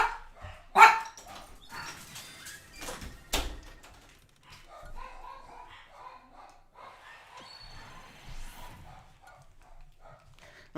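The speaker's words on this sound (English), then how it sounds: "dogs are barking" Dogs bark in scattered sharp bursts, one loud bark near the start, then quieter intermittent barks and yips with some thumping in between.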